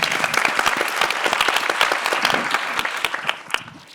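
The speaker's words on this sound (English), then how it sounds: "I think that in itself deserves a round of applause." Audience applause at the closing session of a patient-advocacy conference, dense and sustained clapping from a large room that stays loud for several seconds before thinning out toward the end.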